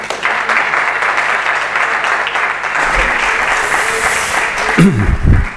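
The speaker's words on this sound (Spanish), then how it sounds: "Fuerte aplauso." A lecture audience in a town hall in Bormujos applauds loudly and steadily, dense clapping that runs throughout with a few voices and shuffling near the end.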